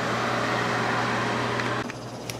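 Steady broadband rush of air blowing from the exhaust dryer vent of a homemade spray booth built from a rear projection TV, with a low motor hum, heard outdoors close to the vent before the airflow shifts near the end.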